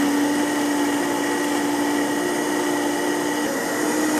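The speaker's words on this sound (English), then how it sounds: "all we're going to do here is blend, and we're going to leave it on for maybe 30 seconds or so" A countertop blender runs steadily on raw hemp seed milk, a loud, even whirring hum held without pause, with no talking over it.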